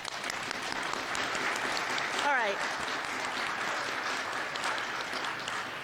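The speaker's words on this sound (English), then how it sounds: "That was the first of what I expect to be 3 or 4 rounds of applause for the General" Sustained audience applause for General Rick Hillier at a mayor's breakfast in Ottawa, a dense, even clatter of clapping hands filling the room for several seconds while someone briefly speaks over it.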